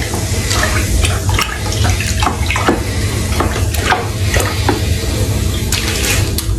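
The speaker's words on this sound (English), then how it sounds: "Give it another stir." A homemade wine kit mixture is stirred in a fermenting bucket, giving a steady loud sloshing and swirling of liquid with intermittent splashy knocks throughout.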